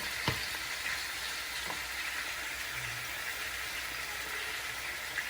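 Turkey necks sear one at a time in a very hot pot, making a faint, even sizzle with a couple of small sharp ticks near the start.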